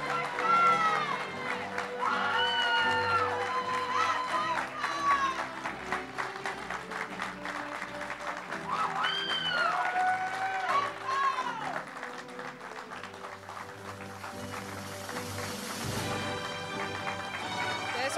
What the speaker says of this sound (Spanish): Un fuerte aplauso para Isaac.